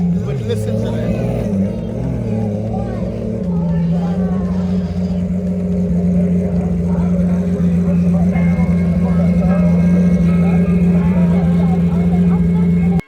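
Porsche 918 engine running nearby, a loud sustained drone that steps up in pitch early on and then holds steady, with people talking over it.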